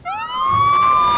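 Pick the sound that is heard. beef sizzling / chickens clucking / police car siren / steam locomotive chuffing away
police car siren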